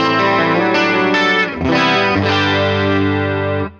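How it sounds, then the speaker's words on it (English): An electric guitar runs through a chorus effect on a BOSS Nextone amplifier, ringing out in sustained, shimmering chords with a slight warble, two strummed phrases, loud and alone before a quick stop. "I'll have a chorus sound"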